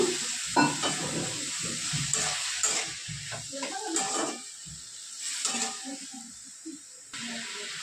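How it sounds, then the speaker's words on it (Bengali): Mixed vegetables and vegetable masala sizzle in a pan after a splash of water is added for braising, with steady frying hiss and intermittent stirring scrapes throughout, close and moderately loud with no talking. "সবজির মশলা দিয়েছি বলে একটু হালকা জল দেবো কষাবার জন্য"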